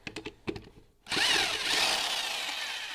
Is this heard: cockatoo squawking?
no